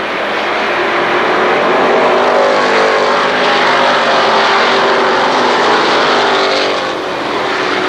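Race cars roar around the Kil Kare Speedway oval during the 1994 Labor Day Championships, a loud, dense, continuous engine drone from a pack of cars at full speed, with no voices over it.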